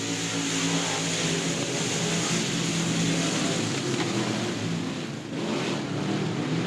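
Emod race cars powering away on a green flag restart at South Texas Speedway, a dense, continuous engine roar at full throttle that holds loud and steady with a slight dip near the end.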